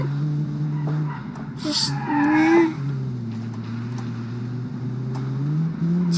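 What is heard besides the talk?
inline-four hot hatch engine revving in BeamNG video game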